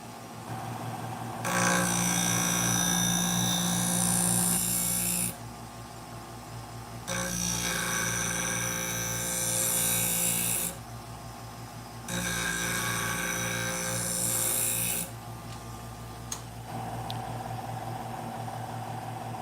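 A knife is sharpened on a powered sharpening machine by a professional sharpening service, with three loud bursts of grinding, each a few seconds long, separated by short pauses under a steady motor hum.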